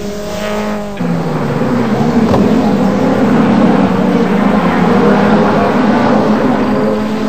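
Ford Sierra RS500 touring cars race at Brands Hatch, their engines blaring loud and close as a car sweeps past, followed by a sustained roar of racing engines at full throttle.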